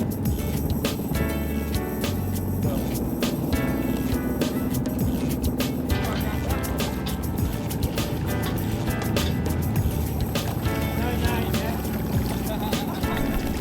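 Small boat motoring out of Mersea Harbour, a steady engine drone with water splashing and wind buffeting the microphone, with a person talking over it.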